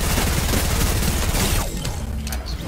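Rapid P90 submachine gun fire in the Fortnite video game, a dense, loud burst that runs steadily through the first half, then trails off into quieter game noise.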